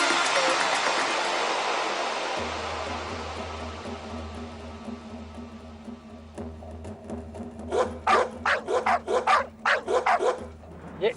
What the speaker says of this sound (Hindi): ये कुत्ते क्यों भौंक रहे?